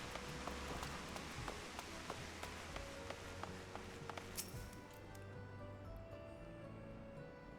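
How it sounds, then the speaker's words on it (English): Steady rain falls in the video game Final Fantasy XIV, a dense even hiss with scattered drop taps that thins slightly toward the end. "We have to travel in this rain?"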